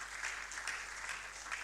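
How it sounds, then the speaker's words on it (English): Audience applause fills a hall after a keynote address at a QHSES leadership event, a steady dense wash of many hands clapping at even loudness throughout, with no voices over it. "Can we just give one more round of applause to Dr."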